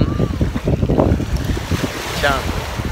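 Strong wind blows at the seaside in La Rochelle, buffeting the microphone with loud gusty rumble and a steady rush, with a person's voice faintly underneath.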